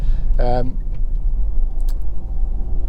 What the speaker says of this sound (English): Great, it's busy road. Normally don't see a car down here.